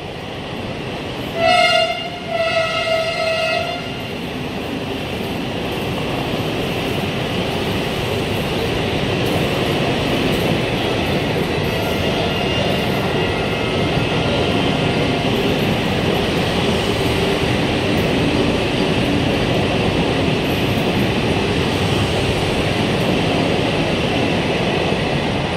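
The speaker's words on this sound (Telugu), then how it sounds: "ఆ రైలు ట్రయల్ రన్ నిర్వహిస్తూ తాడేపల్లిగూడెం రైల్వే స్టేషన్ చేరుకుని ఆర్కే కమ్యూనికేషన్ సిటీ న్యూస్ కెమెరాకు" A Vande Bharat train on a trial run arrives at Tadepalligudem station. A loud horn blast sounds at the start, then the train rolls past in a long, steady, close rumble of wheels and carriages.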